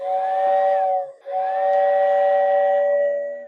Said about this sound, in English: when the train goes by, it activates, the steam whistle goes